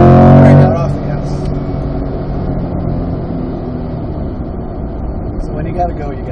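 A car running hard on the Road Atlanta racetrack during parade laps, its engine drone steady and close from start to end, loudest in the first moment, with people talking over it.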